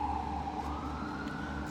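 An ambulance siren wails steadily and fairly loudly outside, its high tone holding throughout with no talking over it.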